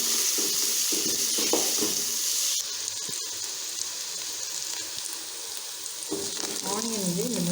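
Onions sizzle and fry in a pan for a Tamil-style kuruma, a steady crackling hiss with a few stirring clanks, fairly close, without talk.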